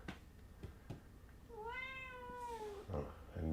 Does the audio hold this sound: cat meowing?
yes